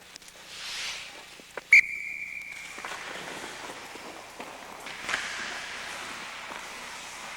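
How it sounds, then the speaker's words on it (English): A hockey coach on an ice rink blows one sharp, piercing whistle blast lasting about a second. Faint skating, scraping and rink noise follows and continues underneath. "When I'm going to whistle, they're going to get up as fast as possible."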